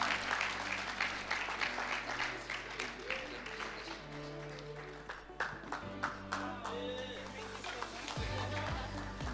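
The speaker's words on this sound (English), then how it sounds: "Can we please give her a round of applause?" Audience at a national ICT summit applauding the Director of ICT Development, a sustained round of clapping from a crowd, with a sound system's hum and some voices underneath.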